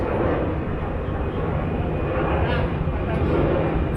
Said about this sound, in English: I'm just waiting for the airplane to pass.